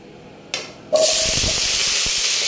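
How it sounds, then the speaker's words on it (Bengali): Potatoes go into hot oil in a wok. Once they land there is a sudden loud burst of sizzling that holds steady and continuous to the end, with a few clunks underneath. "আমার তেলটা গরম হয়ে গেছে, এবার আমি আলুগুলো ছেড়ে দেবো।"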